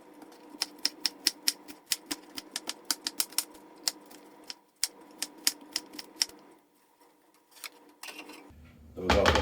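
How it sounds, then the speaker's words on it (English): A knife chops half an onion on a cutting board in a home kitchen, giving a rapid, even series of sharp close knocks, a short pause, then more chops and a final rustle. "I had a half an onion, so I'm going to cut that up"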